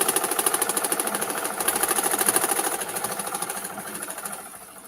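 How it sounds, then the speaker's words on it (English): Mower engine cutting a hay field, heard as a steady, rapid mechanical chugging with a fast even pulse, fairly close and loud, gradually fading slightly toward the end, with no talk. "My brother's mowing the hay lot."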